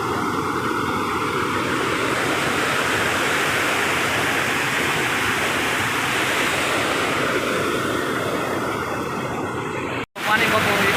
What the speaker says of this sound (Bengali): আর পানির আওয়াজটা তোমরা দেখে নাও ভালো করে